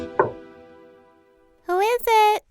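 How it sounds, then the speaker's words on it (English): Two sharp knocks on a wooden door in a children's fairy tale, loud and close, the first a single rap near the start and a second louder pair later, with a child-like voice speaking between them. "As soon as she left, he knocked on their door."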